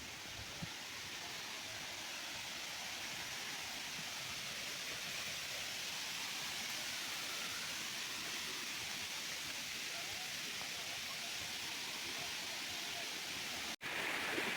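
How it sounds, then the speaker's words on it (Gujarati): Water pours steadily over the top of the Dharampur waterfall, a constant broad hiss heard from close by, with a brief knock near the end. "જે નીચે પાણી પડે છે તે અહીંયાથી આવે છે પાણી."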